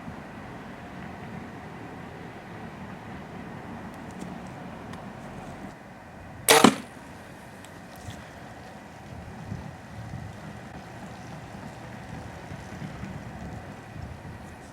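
An arrow with an Iron Will original broadhead strikes the target in a single sharp, loud thwack amid quiet outdoor wind noise.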